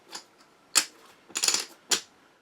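Cards from a board game being shuffled by hand, a few quick, crisp riffling bursts, close and fairly quiet, separated by short pauses.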